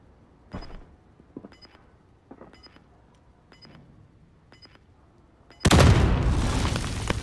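A bomb explodes in the video game Call of Duty: Modern Warfare, preceded by a series of evenly spaced beeps and soft thuds, then a sudden loud, close blast whose roar sustains to the end.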